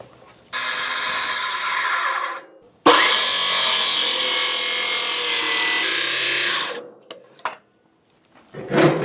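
A power saw cuts a bird's mouth notch into a wooden roof rafter for a chicken coop: two loud, sustained whining cuts, the first about two seconds, the second about four, separated by a brief pause, then a few clunks.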